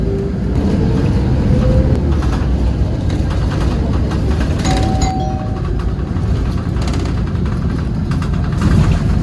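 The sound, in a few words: bus engine while the bus turns around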